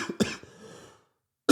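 A man with a cold and congestion coughs twice close to the microphone, giving two quick harsh bursts with a short raspy tail, then brief silence before another cough starts.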